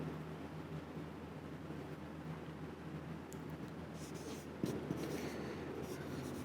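Writing on a board during a math lecture: soft steady scratching strokes, faint and close, over a constant low room hum with a brief tap near the end.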